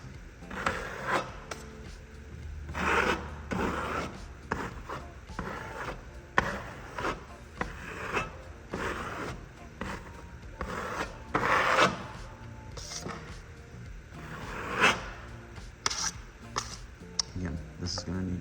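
A drywall knife scrapes excess joint compound off a wall patch in repeated rasping strokes, close and fairly loud, with someone talking between and over the scrapes.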